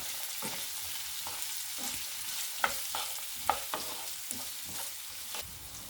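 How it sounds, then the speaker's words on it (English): Onions frying in a pan with cumin, bay leaves, dried thyme and curry leaves, a steady close sizzle with several sharp stirring scrapes and clinks, no voices. "Let this fry for a few minutes before I add my ground spices."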